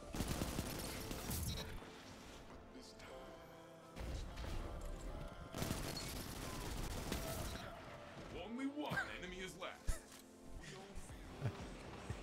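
Rapid hip-fire gunfire in a close-range Destiny Trials firefight, bursts of shots crackling over game music and effects, with a player talking throughout.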